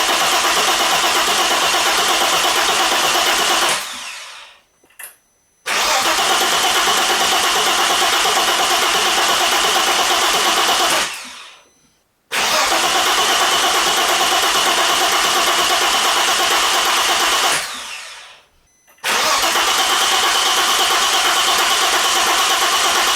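An Audi B6 2.7T engine with a weak battery cranks in three long, loud, continuous churning bursts, each separated by a short silence.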